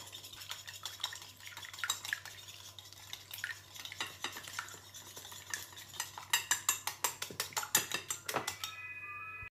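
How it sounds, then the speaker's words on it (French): An egg with turmeric and pepper is beaten in a bowl, quick repeated clinking strokes of a utensil that start sparse and grow into a fast, louder rhythmic tapping before stopping. "Là j'ai un œuf, j'ai rajouté un petit peu de curcuma et un petit peu de poivre. Je vais battre le tout."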